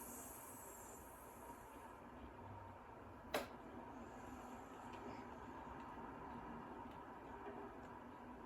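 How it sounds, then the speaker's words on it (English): A train leaving in the Nancy Drew: Last Train to Blue Moon Canyon video game gives a low, steady rolling rumble with a faint hiss and one sharp click partway through. "Sounds like the train's leaving."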